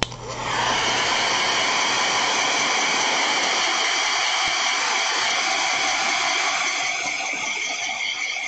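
A hair dryer blows steadily and loudly over wet paint, giving a continuous whooshing roar that starts abruptly and runs without a break, with no talk.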